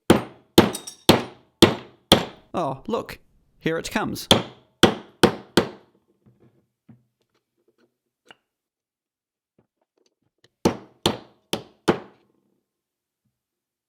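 Hammer strikes on a Lucas starter motor case from a Land Rover, a steady run of sharp metallic blows close up, then a pause with a few faint taps, and another short burst of four blows; a voice speaks briefly.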